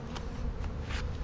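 Honey bees buzz at an open hive being smoked down over the brood nest, a dense, steady drone close by with no talk.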